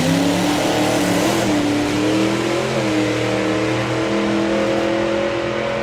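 A supercharged big block Ford drag car engine at a drag racing event revs loudly and steadily nearby, its deep harmonic drone rising and falling slightly over several seconds.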